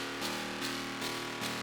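A distorted, brutal metallic wavetable synth layer with a clipped sweep, low end filtered out, for hard techno, repeating as four evenly spaced pulses with a harsh buzzing tone, played alone.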